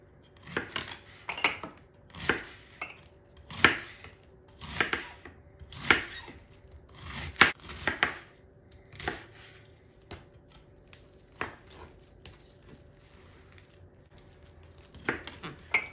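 A knife chops through half a head of cabbage, cored for a chopped salad, on a cutting board: a run of crisp, close chops at an uneven rhythm, then lighter, sparser cuts near the end.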